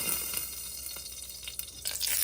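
Kazakh kuymak pancakes made of egg and ayran frying over medium heat in a pan, a soft crackling sizzle with faint pops, fairly quiet and heard alone.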